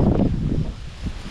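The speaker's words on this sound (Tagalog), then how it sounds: "ang lakas ng hangin" Strong outdoor wind buffets the microphone in a low, rumbling rush that swells and eases over a moment, with no other clear sound.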